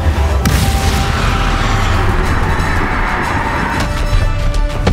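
A Confringo fire spell going off in the video game Hogwarts Legacy, a loud sustained explosive boom with rumbling low end and a sharp crack near the start, heavy combat noise throughout, no talk.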